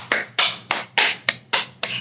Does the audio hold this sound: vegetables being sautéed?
no